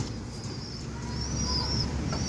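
Soft pigeon coos from racing pigeons in a loft over a steady low rumble of background noise, a few faint chirps mixed in, fairly quiet and continuous.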